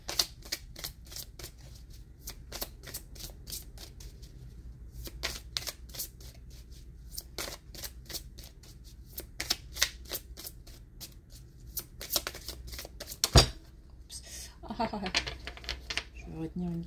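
Oracle cards are shuffled by hand in a long run of quick, crisp riffling flicks in bursts, near and fairly quiet, with a brief louder snap near the end and some low background murmur.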